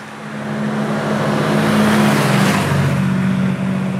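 A BMW R nineT motorcycle engine, restricted for an A2 licence, revs up close and loud, climbing to a sustained high-rpm roar and then dropping back to a lower pitch near the end.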